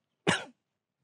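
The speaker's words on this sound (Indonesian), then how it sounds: "Dari tadi kamu batuk-batuk terus." A single short cough from one person, close and abrupt, with silence before and after.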